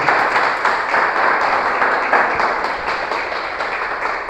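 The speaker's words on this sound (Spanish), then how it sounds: "dale otro aplauso al Señor" Church congregation applauding during a service, a dense, sustained wash of many hands clapping loudly, steady from start to finish.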